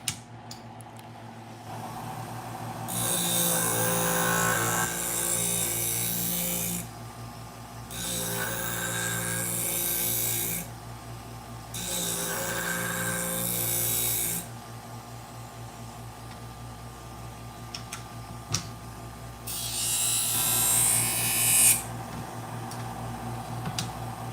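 A knife blade stroked across a sharpening wheel or stone in separate passes of several seconds each, a loud hissing grind that stops and starts against a steady motor hum, with no voices.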